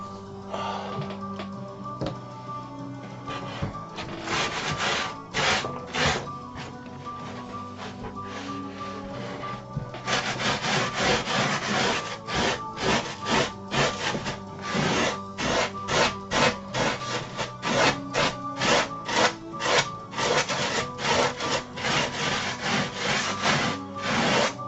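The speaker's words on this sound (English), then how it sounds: "I should probably sand down some of these edges before I torch them too heavily" Wooden edges sanded by hand with sandpaper, a dry abrasive rasp that starts in loose bursts and then settles into steady, close back-and-forth strokes, loud and alone without talk.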